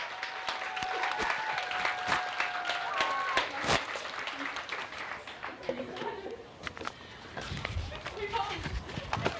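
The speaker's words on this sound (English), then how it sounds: "let's give all these beautiful ladies a big round of applause" Crowd at a county fair pageant claps for the contestants, a burst of applause that thins into scattered claps, with voices talking over it and a faint tone in the background.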